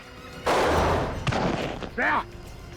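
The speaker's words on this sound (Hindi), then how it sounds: "मैं तो गोली मार दूंगा" A loud, sharp gunshot-like blast rings out with a brief reverberant tail, followed by a short vocal cry.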